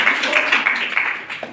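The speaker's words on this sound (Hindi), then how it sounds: "इसके लिए ताली बजा दो" Students applauding at a school event held by a service organisation, a dense burst of clapping from a group that carries on steadily for a second or so and then tapers off.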